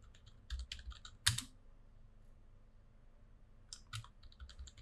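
Short bursts of quiet keyboard typing on a computer, a few rapid key clicks at the start, one louder clack, then a pause before another brief flurry of keys.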